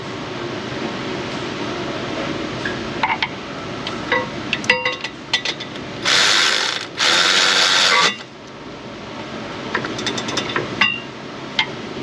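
A ratchet tightens a fastener near the 6L80 transmission of a 2016 Chevy Tahoe, giving bursts of clicking ratchet strokes and metallic taps amid shop noise, with a couple of louder steady whirring bursts from a power tool in the middle.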